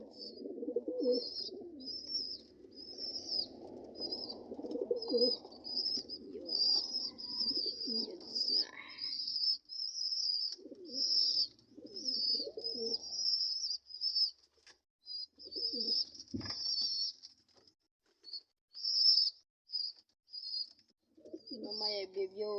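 Pigeons kept in a backyard loft coo in low, throaty repeated phrases, with wing flaps and a soft thump among them, while a steady high insect or bird chirping runs throughout.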